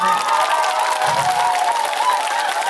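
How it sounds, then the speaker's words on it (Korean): Applause and crowd noise rise from the audience at a trot music concert, a loud, continuous clapping wash with voices and a sustained tone mixed in. "그 대신에 박수를 좀 쳐줬으면 좋겠는데"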